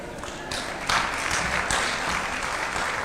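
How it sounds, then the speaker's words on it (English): Steady applause from a crowd, dense clapping that holds at an even level throughout with a few louder swells. "Another round of applause for Mr. Manuel Moses, CEO Atidi."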